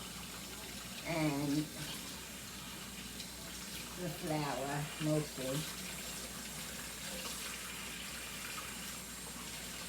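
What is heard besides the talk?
water running from kitchen faucet while washing hands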